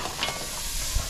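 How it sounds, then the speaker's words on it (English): A pot of salted water at a rolling boil for cooking stone crab claws, giving a steady close bubbling hiss with a few soft splashy pops, no voices. "Salted water boiling about 8 minutes."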